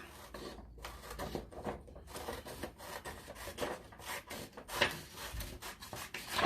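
Scissors cut a strip of paper during a children's craft activity, giving a close run of crisp snips and papery rubbing and rustling, with no one talking.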